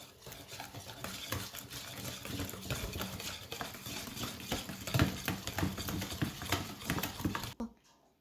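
Mini tuna cake batter with salt and pepper being mixed steadily in a bowl, producing continuous close scraping and sloshing strokes that run for several seconds before stopping abruptly.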